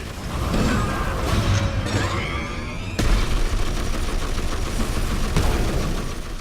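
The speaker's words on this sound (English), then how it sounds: "She's a massive mech with Gatling guns for arms that do things like this Gatling barrage." Heavy Gatling gun barrage from a massive mech in the strategy game Warhammer 40,000: Dawn of War III, a loud, continuous roar of rapid fire mixed with booming impacts and explosions, dense and unbroken throughout.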